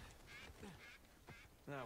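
A bird call from the video game Uncharted 4, a few short harmonic honking or quacking notes spaced across the moment, the loudest and fullest at the end, over a steady low game background.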